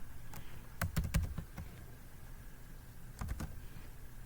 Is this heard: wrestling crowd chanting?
no